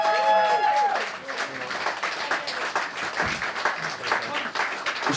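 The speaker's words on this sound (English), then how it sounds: "Another round of applause to this fantastic band." Audience at a live jazz sextet gig in an upstairs venue during a jazz festival breaks into steady, dense applause that fills the room, with a few voices and some musical tones at the start.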